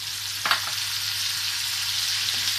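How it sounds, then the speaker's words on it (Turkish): Chicken and tomatoes fry in a pan with a steady, close sizzle, and a couple of brief stirring scrapes come through near the start and again near the end. "Domatesle birlikte şöyle bir karıştırıyorum."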